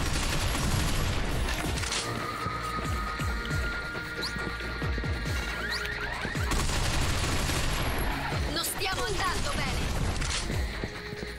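Gunfire in the video game Binary Domain: sustained automatic bursts and crackling shots in a chaotic firefight, loud and close, pausing briefly midway before resuming, with some voices mixed into the battle noise.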